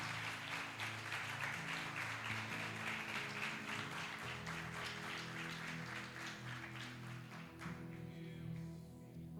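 A church congregation applauding during a worship service, dense continuous clapping over sustained music, quite faint and distant.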